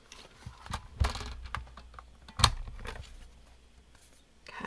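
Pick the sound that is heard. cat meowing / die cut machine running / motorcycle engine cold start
die cut machine running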